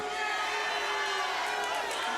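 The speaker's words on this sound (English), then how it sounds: "For everyone out here booing" Crowd at an Ignite 1 fight event booing, a steady, dense wall of voices that carries from start to end without a break.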